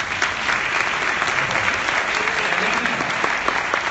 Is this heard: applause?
yes